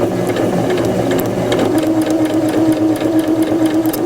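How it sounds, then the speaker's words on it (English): A sewing machine runs continuously while stitching down a seam allowance, its motor humming steadily with a fast rhythmic needle clatter, close and loud throughout. "With your presser foot lined up with the seam, you will start to sew."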